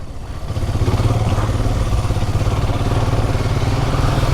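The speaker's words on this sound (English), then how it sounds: "this motorcycle can just take you anywhere" A 2021 BS6 Himalayan motorcycle engine rumbles loudly and close, revving up and holding a rough, pulsing drone with clattering over uneven off-road rock, dirt, mud and gravel.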